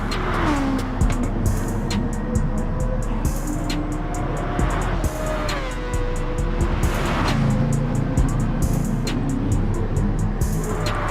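Racing car engines in the video game GT Sport rev and whine continuously as the cars accelerate and shift gears, with repeated pitch sweeps and occasional tire noise, loud and steady throughout.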